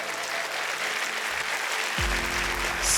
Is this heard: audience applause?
yes